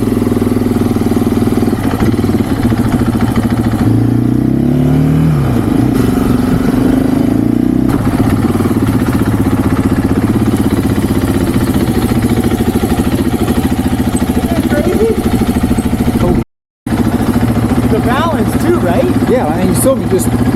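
A 2024 KTM 500 EXC-F race dirt bike with a high compression ratio, its single-cylinder engine running loud and close with a pulsing idle and a few quick revs, people talking over it throughout.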